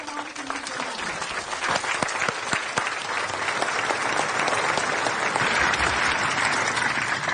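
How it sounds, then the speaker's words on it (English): A large crowd applauds for the 3rd Armored Corps commander at a U.S. Army ceremony redesignating Fort Hood as Fort Cavazos, a dense, sustained roar of clapping that stays loud and even throughout. "please join me in a warm round of applause for the 3rd Armored Corps Commander, Lieutenant General Sean C."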